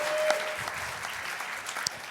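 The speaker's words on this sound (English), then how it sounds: "Yeah, we can give a round of applause." Audience applause at a campus interview event: brief, steady clapping from a modest crowd, moderately loud and even, heard alone without talk.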